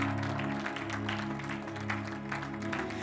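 A church congregation claps for the Lord during a service, a steady dense wash of applause from many hands, moderately loud with a low hum underneath.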